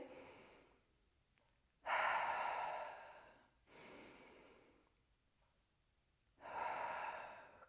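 Slow, deep breathing during a hamstring and hip stretch: three long, close breaths, each a rising rush of air that fades out, separated by quiet pauses.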